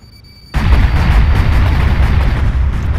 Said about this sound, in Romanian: Nu vă uitați la explozie,